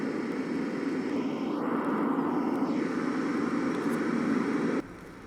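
A propeller airplane in a video game drones overhead with a steady engine roar that holds, then cuts off abruptly near the end, over a soft rain-like hiss.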